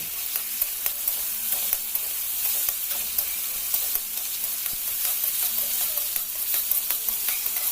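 Garlic and green chili paste stir-fries in a pan for a pangas fish curry with potato and eggplant, giving a steady bright sizzle with faint scraping ticks from stirring, without voices.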